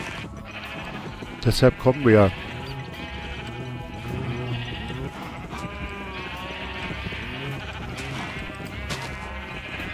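Minecraft sheep bleat repeatedly, some calls loud and close, others softer, while someone speaks briefly over them.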